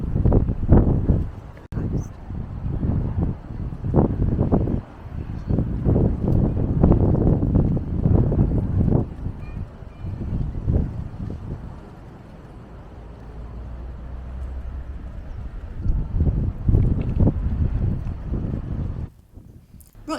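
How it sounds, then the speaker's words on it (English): Strong gusting wind buffets the microphone along a street in Rochester, a steady roaring rush that swells and eases, with faint traffic beneath. "Very windy."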